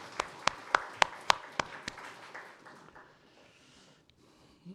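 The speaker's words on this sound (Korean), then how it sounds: "하나님께 영광의 박수 드립니다." Church congregation at a Sunday service clapping in unison, a run of about seven sharp, evenly spaced claps ringing in a reverberant hall before fading into quieter room noise.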